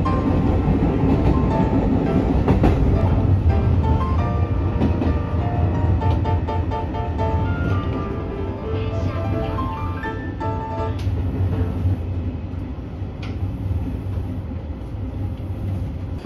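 Train running on the old Nagasaki Line, a nonstop rapid run toward Kikitsu: a sustained rolling rumble with wheel clatter and squealing tonal whines, loud and close throughout, with no talking.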